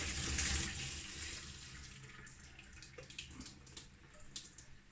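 Water from a pot of blanched broccoli pours out in a steady, close rush that starts loud and eases into a trickle with scattered drips and splashes.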